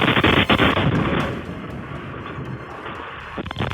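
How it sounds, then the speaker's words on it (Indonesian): A heavy explosion from a US military strike on Tehran, captured by a security camera inside a car dealership: loud booming impacts at the start, followed by a long rumbling roar that slowly fades, with another sharp crack near the end. "Iran merilis rekaman yang memperlihatkan momen ledakan yang diklaim terjadi saat operasi militer Amerika Serikat"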